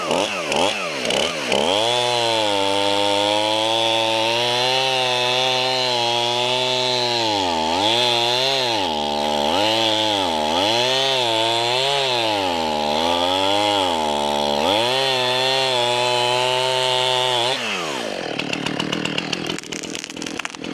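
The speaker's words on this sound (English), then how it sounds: "This damn chainsaw." A chainsaw revs and cuts through a tree during tree removal, its loud buzzing engine rising and falling in pitch over about fifteen seconds before cutting off abruptly, with no talk.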